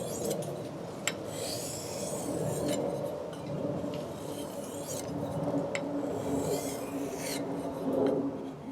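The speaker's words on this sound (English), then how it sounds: "so that is all of the honing and sharpening done" An ESEE 6 knife edge is honed and sharpened in close-up, with quiet, repeated rasping strokes of steel across an abrasive, some sharper scrapes and light clicks in between.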